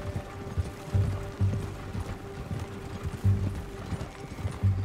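Horse hooves clip-clop in Red Dead Redemption 2, a steady rhythmic trot with repeated low thumps at a moderate distance, mixed with faint wagon-like mechanical rattling and no talk.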